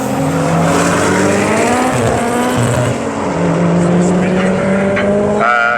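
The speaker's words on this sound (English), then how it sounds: "So McDowell with the GTR. Ben Allen with a modified Corsa Turbo VXR." A Nissan GTR and a modified Vauxhall Corsa Turbo VXR on a drag race run at Elvington Airfield in York, with loud, close engine roar whose harmonics climb and shift through gear changes, then a brief higher rasp at the end.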